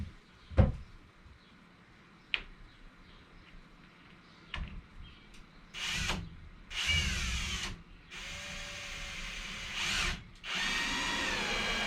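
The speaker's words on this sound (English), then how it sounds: "I'm just going to pop in a couple of screws here," A power drill drives screws into plywood pieces for a suspended shed storage shelf, heard as several bursts of whirring close by, preceded by a few knocks and clunks of handling.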